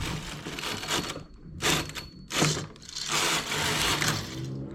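A domestic knitting machine carriage is pushed across the needle bed for two rows while a checkered pattern with cables is made. Rattling mechanical swishes come in several close, loud passes with short gaps between them, and no one talks.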